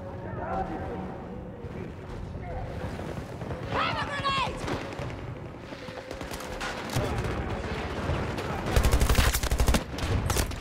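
Gunfire in a trench battle within a video game sounds as scattered shots and heavier bursts that grow louder near the end, under excited chatter from several players.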